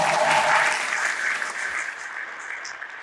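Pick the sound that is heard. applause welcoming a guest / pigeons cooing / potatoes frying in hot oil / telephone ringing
applause welcoming a guest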